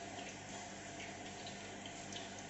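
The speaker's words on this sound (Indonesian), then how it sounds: "Tambah airnya karena ini santan kental." Water pours steadily into a pot of thick coconut milk while cooking, a faint, even rushing that runs the whole time with no talk.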